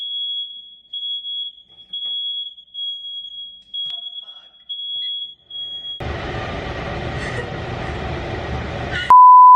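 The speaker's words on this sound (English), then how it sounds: "Sorry about the fire alarm." An apartment smoke alarm beeps in a steady repeating high-pitched pattern, close and loud, for about six seconds, then broadband noise takes over, and a single sharp tone cuts in right at the end.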